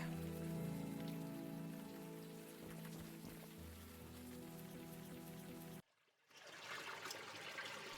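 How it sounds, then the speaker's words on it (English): Steady rain falls in the video game Unavowed, a dense, even hiss of drops that runs loud and continuous for most of the stretch, cuts out briefly near the end, then returns over a low background drone. "At least the rain is washing away most of the smell"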